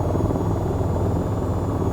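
A helicopter engine drones steadily in a flight simulator game, a continuous loud rotor and turbine roar with a faint high whine running through it, with no speech.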